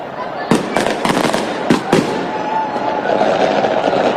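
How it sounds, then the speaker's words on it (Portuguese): Fireworks burst during an election-night celebration in front of Jair Bolsonaro's condominium in Barra da Tijuca, Rio de Janeiro: several sharp, loud bangs in quick succession over a continuous crowd and street din. "os fogos de artifício aqui ao redor, em frente ao condomínio de Jair Bolsonaro"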